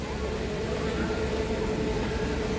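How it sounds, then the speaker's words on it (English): A tour train at the Expo 2020 site coming to a stop, a continuous dense rumble with a steady mechanical hum, loud and close throughout while a voice talks over it. "Kindly wait until the train stops."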